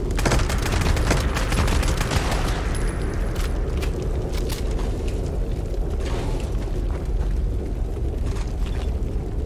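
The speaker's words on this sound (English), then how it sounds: "Automatic assault rifle." Automatic assault rifle fire in the video game Fallout 76 blasts loud and dense, sustained rapid gunfire with booming echoes filling the whole stretch, no talking over it.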